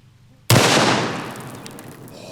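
A single, very loud shot from a double-barrel 1911 pistol chambered in .45 ACP, a sharp, sudden blast followed by a long, rumbling decay and echo outdoors.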